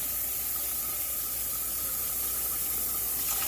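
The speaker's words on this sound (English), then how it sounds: "You wash the rice. Use cold water, not hot water." Cold water runs steadily from a tap over rice in a sink or bowl, a continuous close hiss and splash without any talking.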